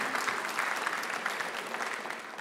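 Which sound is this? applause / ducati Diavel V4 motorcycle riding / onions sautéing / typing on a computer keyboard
applause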